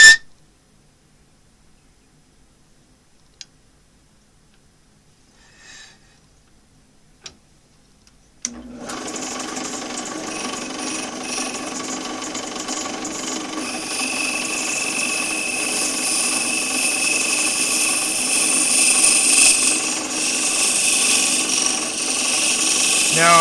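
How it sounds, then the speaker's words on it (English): A woodturning lathe spinning a wooden workpiece while a tiller-handled tool scrapes its hollow inside, starting after near silence with a sudden steady whirring hum and a rising scraping hiss that grows louder and continues alone. "I'm not pulling hard enough to scrape the inside with this edge here."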